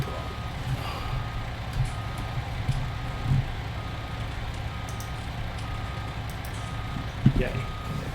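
A reversing beeper on a truck in the farming game Farming Simulator 19, sounding as a steady run of evenly spaced beeps over a low engine hum, with someone talking now and then.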